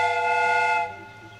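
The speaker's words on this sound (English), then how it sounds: "The steam whistle is ready to be used." A steam train whistle sounds in the Sherlock Holmes Crimes and Punishments video game, one loud sustained multi-tone blast lasting under a second before dropping off into a fainter lingering tone.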